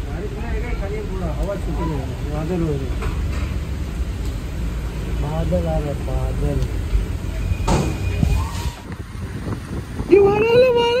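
Strong wind roars and buffets the microphone throughout while a person talks over it.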